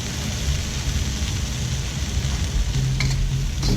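Spinach going into a hot stir-fry pan of velvet chicken with black beans, a dense, steady, loud sizzle and crackle that fills the whole stretch, close up with no talking.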